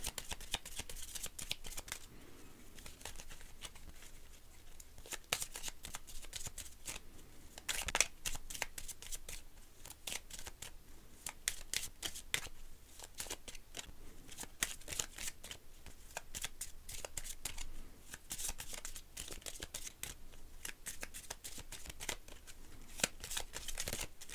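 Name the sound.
shuffling Lenormand fortune-telling cards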